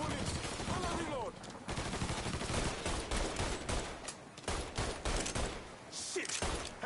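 Dense, loud gunfire from the Mafia 3 video game, bursts and rapid volleys packed together almost without pause, close and harsh, with a voice shouting over part of it.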